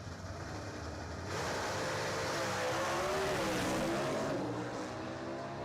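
Two drag cars, a Camaro and a Fairlane with a five-speed, launch at a drag strip and roar off together; a loud, sustained engine blast swells and shifts pitch as they pull away.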